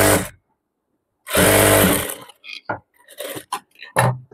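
A sewing machine stitches fabric pieces of a layered frock together in short bursts, a loud whirring run followed by several quick, brief stitching spurts separated by pauses.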